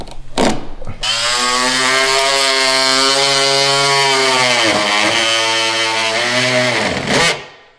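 A power saw cuts wood to fix a gap around a door, starting with a brief rev and then holding a loud, close, steady whining tone for about six seconds before spinning down.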